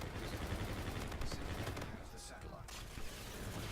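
Sustained rapid weapon fire in Call of Duty: Infinite Warfare during an Uplink match, a dense, continuous crackle of shots that dips briefly before resuming, heard at moderate level.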